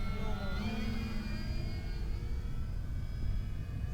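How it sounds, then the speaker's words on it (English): A Beechcraft D18 radio-controlled model airplane with 1.5 m wingspan cruises overhead, its electric motors giving a steady droning whine with a shifting pitch, continuous and moderately loud against outdoor wind. "This is totally a cruiser plane."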